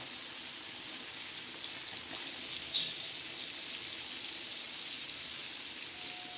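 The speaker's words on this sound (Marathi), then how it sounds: "आता हा मस्त पैकी असं तळताना याच्यामधलं जे तेल आहे ते असं थोडं थोडं पापलेटवर टाकायचं" Pomfret fish coated in semolina, red chilli, turmeric and salt shallow-frying in hot oil, giving a steady, even hiss with a brief louder spatter midway.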